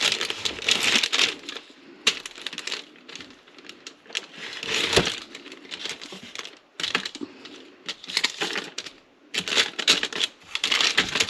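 Close, sticky cutting through a slab of homemade marshmallow, with bursts of crisp, crackly slicing and scraping in irregular rhythm, no talk.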